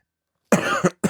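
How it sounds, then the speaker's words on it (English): A man's cough, close and fairly loud, one long harsh burst followed by a short second cough after a brief pause, with silence before it. "I'm sorry, I still can't get rid of that cough."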